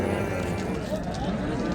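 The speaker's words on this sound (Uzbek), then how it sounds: "Juda ko'p sigir bozorda" Cows at a busy livestock market give a long, loud moo close by, with the low hum of the crowded market behind it.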